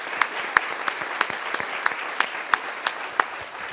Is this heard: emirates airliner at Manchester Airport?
no